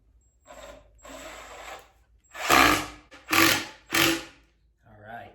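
A power drill drives long screws into the wooden boards of a garden box in three loud, whirring bursts that rise and stop, with softer sounds before them that may include a voice.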